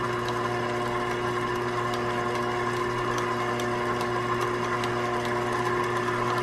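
Electric mixer running on low while flour goes into chocolate chip cookie dough, a steady even motor hum with faint ticking throughout, no talk.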